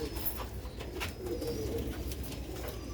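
Silver Sialkoti chhat pigeons coo softly and steadily against a continuous low outdoor background, with a few faint higher chirps mixed in.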